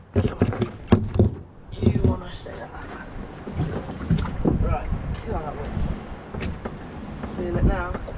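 Strong wind buffets a small inshore fishing boat at sea off the UK, with gusty roaring noise rising and falling throughout while a person talks close by.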